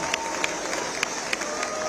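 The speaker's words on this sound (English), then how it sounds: "please give yourself a big round of applause" Graduates in gowns applauding at a large outdoor graduation gathering, a dense continuous wash of crowd clapping with a few sharper claps standing out.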